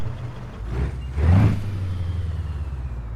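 Exterior engine note of a modded Peterbilt-style Outlaw 359 semi truck in American Truck Simulator, a steady low rumble that swells briefly as it revs, then settles back to a droning idle.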